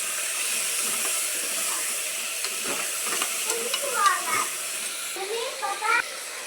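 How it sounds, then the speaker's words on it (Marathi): A khichdi tempering with coriander frying in a pan gives a soft, steady sizzle with hiss, joined by a few scraping stirs and small clinks of a spoon near the end, close by and fairly quiet. "इकडं माझी फोडणी भाजायला आहे"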